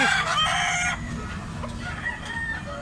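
A yellow-legged fighting cock crows loud and near at the start, a bright strained call that breaks off after about a second, leaving quieter farmyard clucking and background noise.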